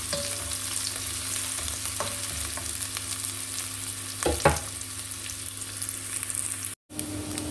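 Garlic, onion and ginger sizzle steadily in a hot pan while being sautéed for chicken meatball soup with miswa, with a brief louder stir-clatter midway and no talking.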